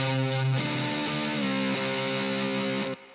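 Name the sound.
guitar hard clip distortion on clean channel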